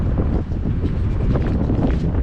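Strong wind during a summer sandstorm in Jeddah, Saudi Arabia, roars steadily across the microphone as a loud, continuous broadband rush with gusty buffeting and no voices.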